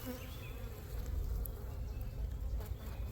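Honey bees from an open hive being split by a beekeeper make a dense, continuous buzz, close and steady, with no one talking.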